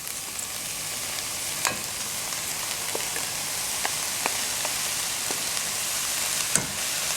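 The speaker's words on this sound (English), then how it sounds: "Now we're going to add our rice." Rice added to a hot pot for a Trinidadian vegetable rice, giving a steady, loud sizzle with scattered crackles and pops from stirring, continuous and close with no voices.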